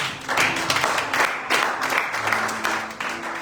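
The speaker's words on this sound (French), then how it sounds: "Est-ce qu'on peut acclamer, s'il vous plaît?" Church congregation applauding, a dense steady wash of many hands clapping throughout, fairly loud and close, with no talking over it.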